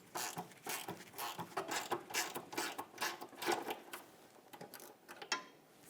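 A 12mm mounting bolt is worked loose from the rear sway bar bracket on a 2008-2017 Mitsubishi Lancer, giving a rapid run of close, clicking ratchet strokes and metallic ticks that keeps going throughout with no talk.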